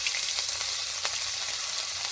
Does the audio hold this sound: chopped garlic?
yes